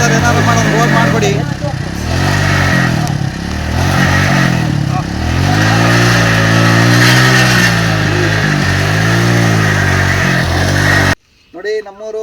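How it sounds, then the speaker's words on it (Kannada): A motorcycle engine labors and revs continuously while riding over a rough, broken village road at Kodihalli near Belur, loud and close, with clattering jolts and a voice talking over it. "ಒಂದು ಬೈಕ್ ಹೋಗಬೇಕು ಅಂದರೆ ತುಂಬ ಕಷ್ಟ ಇದೆ."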